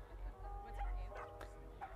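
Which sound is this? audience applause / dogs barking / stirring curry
dogs barking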